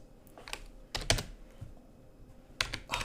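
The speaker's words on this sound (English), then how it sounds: "keep typing in users" Bursts of computer keyboard typing during a Linux database tutorial, with a few clustered keystroke runs separated by short pauses, close and fairly clear, no talking.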